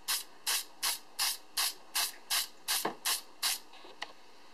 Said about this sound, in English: You want to spray it from very far back.